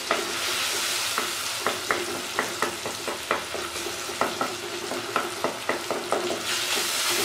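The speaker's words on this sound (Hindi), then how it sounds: "अब हम इसको हल्के हाथ से थोड़ा सा इस तरह मैश कर देंगे" A spoon gently mashes fried tomatoes in a pan as they keep sizzling. Soft, regular strokes and scrapes land about once every half second over a steady, loud frying hiss.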